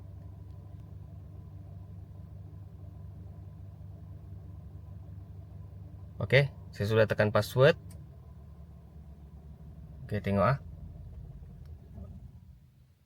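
A car engine idles with a steady low rumble throughout, close and constant, while someone speaks briefly in Malay over it before the engine is cut off remotely by a GPS tracker.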